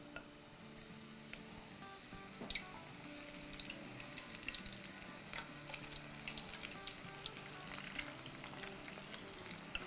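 Corn pakoras fry in hot oil with a soft, continuous sizzle and bubbling, broken by a few faint clinks and spatters, heard close and without talk.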